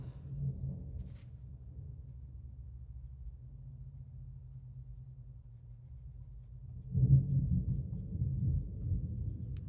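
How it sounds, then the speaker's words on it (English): Distant thunder rolls indoors as a low, steady rumble that swells louder near the end and lingers, with no talk over it. "A little bit of thunder."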